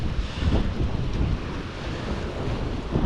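Strong wind blows on the shore by a pier, a low roaring buffet against the microphone mixed with the wash of surf, steady and loud throughout without talk.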